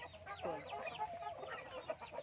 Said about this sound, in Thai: นี่ไก่เปตง ไก่เปตง นี่ค่ะ